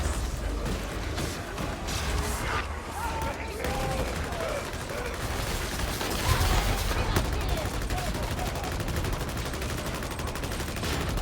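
Nonstop rapid gunfire into a horde in Warhammer 40,000: Darktide, dense automatic bursts running without break for about ten seconds, loud and close, with a voice talking faintly beneath.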